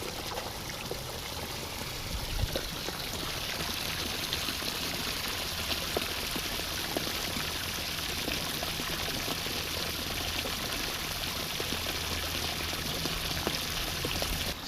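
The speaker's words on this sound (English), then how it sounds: "I'm going to plug in the pump now." Water pumped into a garden fish pond pours in a steady, continuous splashing stream, close and fairly loud, with no voices throughout.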